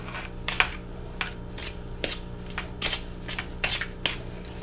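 Sugar is whisked little by little into softened butter for banana bread, giving close, quiet, uneven scraping clicks and taps from the whisk against the bowl.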